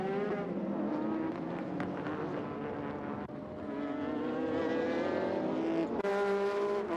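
GT500 race cars roar by on a 1999 JGTC circuit, the Arta Skyline overtaking the Raybrig Honda NSX, engines loud and sustained with rising and falling pitch as a gear shift cuts through near the end.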